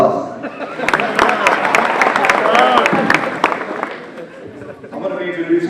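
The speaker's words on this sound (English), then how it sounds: "Give me an applause." Banquet audience at a high school football awards dinner clapping steadily, a dense loud wash of applause with scattered sharp claps and some crowd voices, tapering briefly before swelling again.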